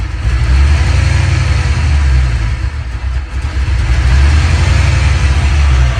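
An old Ford engine fitted with a late model alternator runs at a loud, steady idle, a close continuous low rumble with slight fluctuation and no voices.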